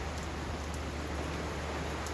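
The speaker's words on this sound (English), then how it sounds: "Sound of rain behind me." Rain falls steadily outside, a constant dense hiss of drops with no pauses, filling the background evenly.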